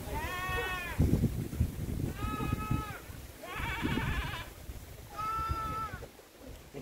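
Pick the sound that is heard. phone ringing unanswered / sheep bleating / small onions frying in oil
sheep bleating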